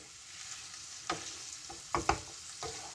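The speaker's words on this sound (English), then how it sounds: "So we're going to add the spices to the onions and let those cook away." Onions and spices frying in a pan give a soft, steady sizzle, broken by a few sharper clinks and scrapes as the mixture is stirred, close by with no talking.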